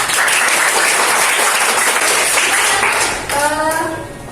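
Classroom applause during an arts lesson, a dense even burst of many pupils clapping for several seconds, fading as a voice begins to speak near the end.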